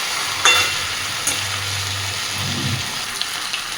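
Chicken and potatoes stir-fried in a hot pan for Bengali chicken kosha hiss with a continuous close sizzle, while a spatula scrapes and clacks against the pan in several strokes, with no voices.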